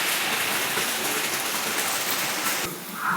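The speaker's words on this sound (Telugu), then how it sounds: "ఈరోజు అసలు బయటికి రానంత వర్షం పడుతుందండి" Heavy rain on a rainy day, a steady dense hiss of downpour that holds loud and even throughout, with a brief dip near the end.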